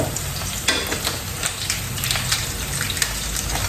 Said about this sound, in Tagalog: Hintayin natin yung sibuyas maluto sa paggisa.